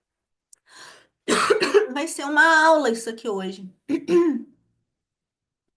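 Someone clears their throat and gives a short cough, then speaks briefly, the voice close and fairly loud.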